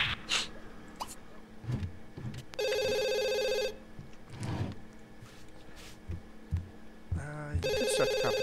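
A telephone rings twice in The Sims 2, each electronic trill about a second long with a gap of several seconds between them, set against game music and ambient clicks.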